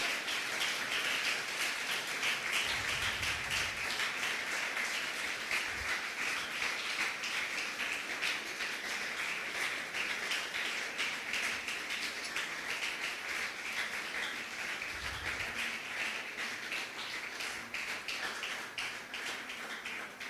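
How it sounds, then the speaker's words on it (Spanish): A church congregation claps in praise, a sustained even patter of many hands that continues at moderate loudness throughout without pause. "Denle un fuerte aplauso a Cristo"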